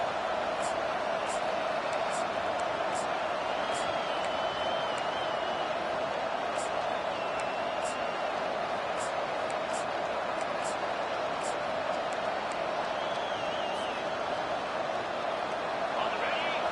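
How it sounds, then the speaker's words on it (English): A huge stadium crowd at a football game roars steadily and continuously, a dense wall of cheering noise with a few whistles cutting through on top. "Listen to this crowd just shaking the girders of this place, trying to help their defense."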